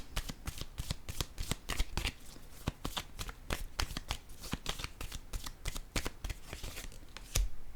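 Tarot cards are handled and set down in a steady run of soft, close, crisp snaps and slides, quiet and alone with no voices.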